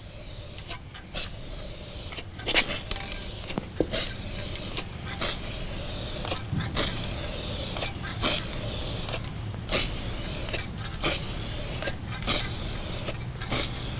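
Black spray paint hisses from an aerosol can onto Atari Quantum arcade cabinet parts in a steady series of bursts, each cut by brief pauses, close and fairly loud under a faint mechanical hum.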